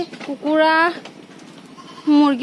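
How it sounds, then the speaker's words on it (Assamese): Goats bleat close by, two loud wavering calls separated by a short pause of quieter background noise. "এয়া হ'ল মোৰ ছাগলীবিলাক ওলাইছে"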